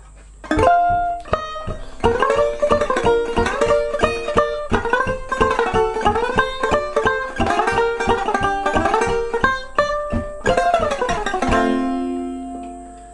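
Bright plucked banjo strings strum rapid tremolo chords in glissandos up and down one chord shape, steady and close, ending on a sustained ring.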